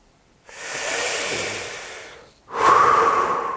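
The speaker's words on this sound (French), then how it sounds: "vous allez prendre une grande et profonde respiration" A person takes two deep breaths: a long slow inhale, then a strong airy exhale, close and loud with nothing else around.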